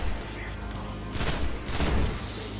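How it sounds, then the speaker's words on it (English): Burst-fire gunfire from the video game Destiny comes in two short, loud clusters of rapid shots, separated by a brief lull, over a low constant game background. "Hey, burst fire. It's like the gun is telling you how to fire."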